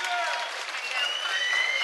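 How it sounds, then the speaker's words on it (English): Applause from an arena crowd at a women's MMA event, a steady clapping wash under faint voices. "The crowd rightly giving a nice round of applause there for Molly."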